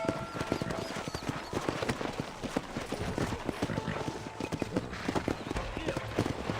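Rapid clip-clop of a horse's hooves in Red Dead Redemption, a busy, fairly loud running rhythm throughout, with a voice talking over it.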